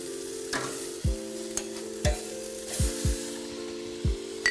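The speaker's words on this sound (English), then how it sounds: "I'm flipping them back now." Glazed chicken pieces sizzle on a grill as they are flipped, a steady frying hiss broken by several sharp clicks and thumps of the tongs, no voices.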